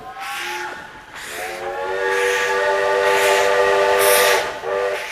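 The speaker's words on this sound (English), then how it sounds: "Oh, it's a train." A train sounds its whistle in sustained tonal blasts, a short call then a long loud one and a final brief note, over a steady rumble of rail movement.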